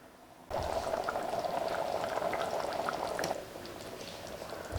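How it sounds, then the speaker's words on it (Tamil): Washed basmati rice tips into a pot of boiling water for chicken biryani, a sudden steady rushing pour that runs for about three seconds, then drops to a quieter bubbling simmer. "நல்லா வாஷ் பண்ணி வச்சிருக்கிற பாஸ்மதி ரைஸ் சேர்த்துக்கிறேன்"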